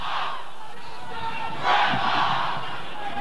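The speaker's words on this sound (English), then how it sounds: "you hear that Melbourne Grammar crowd surging" At a schoolboy rugby union match, the Melbourne Grammar crowd roars in a loud, sustained wall of cheering and shouting that swells in the middle and holds steady.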